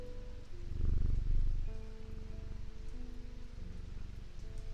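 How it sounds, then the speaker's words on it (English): A cat purrs in the Strange Antiquities video game as it is petted, a low rumbling purr swelling loudly near the start, then fading under soft, steady game ambience and tones. "I'm gonna pet the cat some more."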